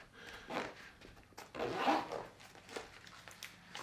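Short rasping zipper pulls on a med pouch, a few quick strokes close by, the longest one in the middle, with quiet handling noise between.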